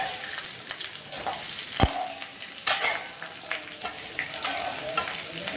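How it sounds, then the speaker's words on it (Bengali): Potatoes frying in a pan with cumin and bay leaf for niramish aloor dom, a steady close sizzle with sharp clinks and scrapes of a stirring utensil against the metal. "এই যে আমি এখন আলুগুলো দিয়ে এবার ভেজে নিচ্ছি।"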